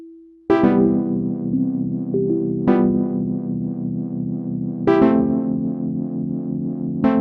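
Elektron Digitone pattern played clean with no pedal: sustained, buzzy chords that change with a strong attack every couple of seconds, holding steady and loud throughout without any talking.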